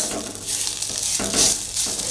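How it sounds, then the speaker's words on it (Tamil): Ingredients for thalai rasam being sautéed and stirred in a pan, a steady close sizzle of frying with scraping stir strokes repeating every half second or so, no voices. "இந்த மாதிரி நல்லா சுருளை வதக்கிக்கணுங்க."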